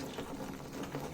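A splash of water poured into a mixer jar holding freshly ground spinach paste for palak paneer, heard as a steady, hissing liquid rush that runs unbroken throughout at moderate level with no talking.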